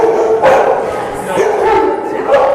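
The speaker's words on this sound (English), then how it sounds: "That's a good dog." A dog barks and yips a few times at close range during an obedience training session with a poodle present, the short barks standing out over a trainer's nearby talk.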